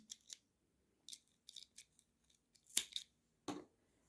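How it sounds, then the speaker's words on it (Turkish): Scissors snip through yarn threads on an amigurumi doll in several short, quiet, crisp cuts spread across a few seconds, close by in a silent room. "bu iplerimi kesiyorum"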